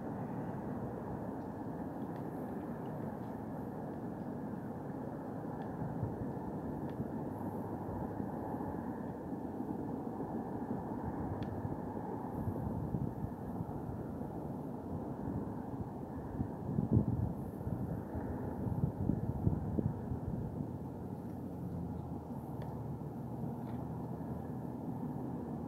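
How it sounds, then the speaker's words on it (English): A steady, low rumbling drone of an airplane passing overhead on a night sky, distant and fairly soft, holding constant with a slight swell midway, with no voices. "that airplane's just flying directly on the left side direction now"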